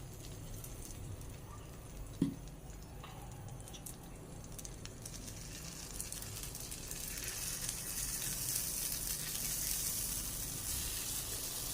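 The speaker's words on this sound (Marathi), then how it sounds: "तेल गरम झालं की आता त्यामध्ये आपण बॅटर फिल करूया" Rice and lentil appe batter poured into hot oil in an appe pan, a soft, continuous sizzle and hiss that grows slightly louder and brighter toward the end, with one brief knock early and no talking.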